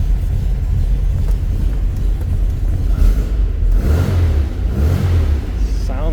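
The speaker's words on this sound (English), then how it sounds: "Definitely does not sound like a stock Volkswagen. Very throaty sound coming from those enormous pea shooters." Engine of a 1962 VW Beetle with large aftermarket exhaust pipes running loud and close, a deep throaty rumble that rises as it revs, with a voice briefly heard over it.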